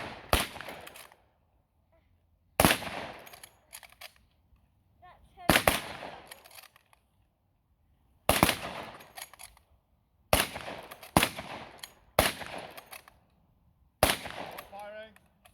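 Rifles fire blank rounds in WWI-style musketry training, loud sharp cracks coming in uneven bursts of single and overlapping shots with short quiet gaps between volleys, outdoors.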